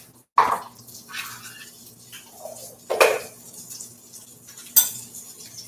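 A utensil scrapes and clinks around a skillet holding melted butter spread and olive oil, three sharp metallic knocks separated by softer sliding scrapes and a faint low hum, close and clear with no talking.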